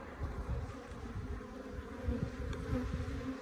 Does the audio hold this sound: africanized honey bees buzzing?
yes